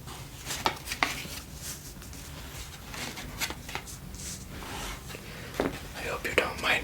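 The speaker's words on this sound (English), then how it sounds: "I'm going to flip them around now." Pokemon trading cards are flipped over one by one using a larger card, producing soft close scrapes and light taps under a quiet, soft-spoken voice.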